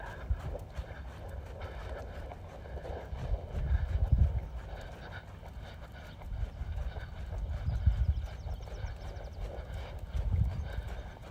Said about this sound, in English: And let him drift slower, slower to the trot.